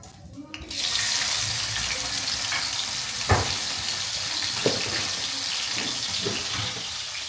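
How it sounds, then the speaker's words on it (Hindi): Cumin seeds crackle and sizzle steadily in hot oil in a dim village kitchen, a continuous close frying hiss with a few soft pops. "देखो, तेल सही से पका लेना, और जीरा नजर तो आ नहीं रहा कितना पका है कितना नहीं पका।"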